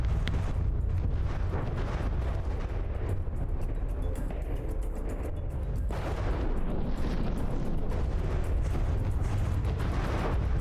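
Battleship shell explosions and anti-munition detonations from a cram barrage in the naval combat game From the Depths, featuring a refitted Yamato; dense, continuous booming and crackling blasts roll on loudly throughout.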